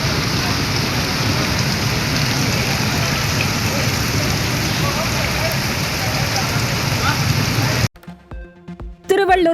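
Heavy rain pours onto a flooded road, a dense continuous hiss of drops for about eight seconds, then it cuts off abruptly into a short musical news sting.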